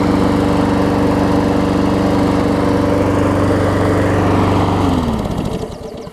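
A Briggs engine on a lawn mower runs steadily at a loud, even drone, close by, then winds down near the end of the run.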